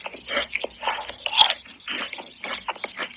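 Crunchy chocolate with nuts is bitten and chewed close to the mic, giving a steady run of crisp crunches and wet chewing clicks with no talking over it.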